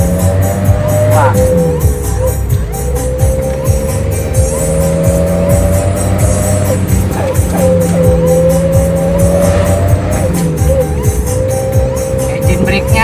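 A diesel car fitted with an exhaust brake runs close by. Its engine drones loudly and continuously, and the pitch dips and climbs several times.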